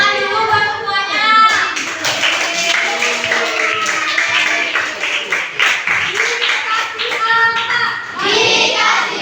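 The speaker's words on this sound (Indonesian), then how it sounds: "Tepuk tangan dulu buat semuanya." A classroom of junior high students claps for one another at a school teaching session, with continuous dense applause mixed with children's voices and chatter throughout.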